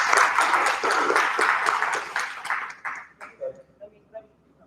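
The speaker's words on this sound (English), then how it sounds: "can give him a round of applause" An audience at a Pan-African dialogue and reception gathering breaks into applause, a dense burst of clapping that dies away into a few scattered claps.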